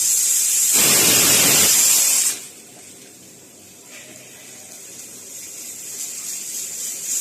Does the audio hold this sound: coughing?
no